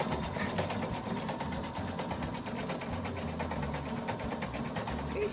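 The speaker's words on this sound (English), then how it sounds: "We're actually doing some alterations on Leland's pants" A sewing machine running continuously while doing alterations on pants, giving a fast, even mechanical whirr and rattle up close that stays steady and loud throughout.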